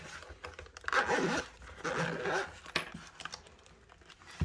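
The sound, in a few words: unzipping a gun cleaning kit case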